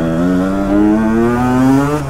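A Honda 125 CR two-stroke motocross bike revs loud and close in second gear, its buzzing engine note climbing steadily in pitch for about two seconds.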